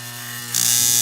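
A Seaboard model train brakeman car's solenoid gives a steady electric buzz that jumps abruptly to a louder, brighter hum halfway through, close and alone.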